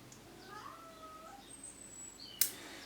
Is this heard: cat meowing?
yes